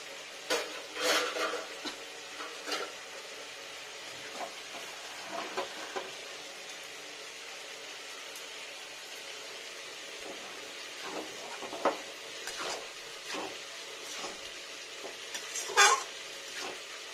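Hot water poured along the sides of a pan of old, slightly hard rice and chicken for homemade chicken polow, giving soft scattered sizzles and stirring clinks that recur through the clip, with no voices.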